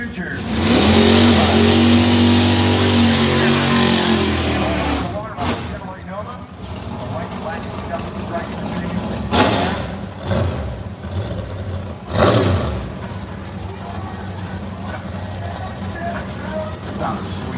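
A Pro Mod drag race car roars off the line at a Florida dragstrip with a loud, sustained engine howl that cuts off abruptly, followed by distant engine noise, bursts of crowd sound and people talking.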